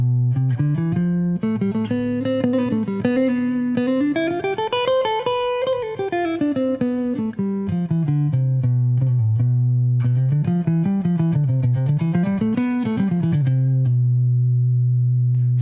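Electric jazz guitar with chorus and light distortion plays the Locrian scale, the mode built on the seventh degree of the major scale, as a sustained melodic line rising and falling over a held low note, clear and alone.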